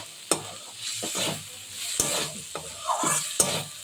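Chopped tomato and green chilli fry in a pan while being stirred, with a steady sizzle broken by several sharp utensil knocks and scrapes against the pan.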